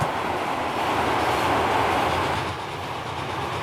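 A train rolls along the mainline in the railway game Transport Fever 2, a dense, steady rumble and rattle of carriages that swells slightly and then eases back, with no one talking.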